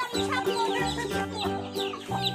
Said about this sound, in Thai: ไก่เยอะแยะเลยเพิ่งฟักใหม่